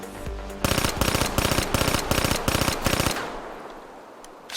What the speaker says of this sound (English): this is how the weapon fires normally